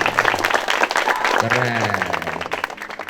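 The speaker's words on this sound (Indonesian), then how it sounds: "Tepuk tangan." A group of young military trainees and families claps at a Kostrad regiment gathering, brisk rapid clapping close by with someone speaking over it and a low voice drawn out midway.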